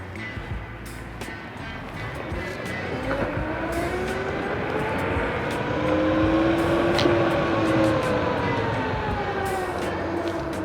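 Beast Board Mini direct-drive electric skateboard accelerating in speed mode 3, a rising motor whine climbing steadily in pitch over continuous wind and road rumble, loud and close throughout.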